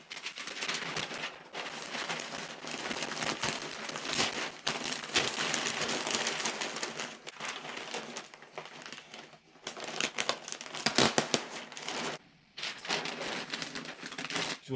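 Construction paper is folded and crinkled around a pair of skis, giving loud, close rustling and crackling in irregular bursts with a few brief pauses between handlings, without speech.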